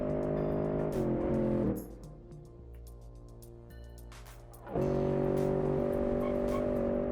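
An eco-focused SUV with soft suspension corners hard with oversteer, its tires squealing over a loud, steady engine drone that briefly drops away mid-turn before surging back.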